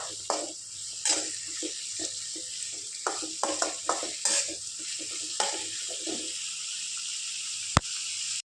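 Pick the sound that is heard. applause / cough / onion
onion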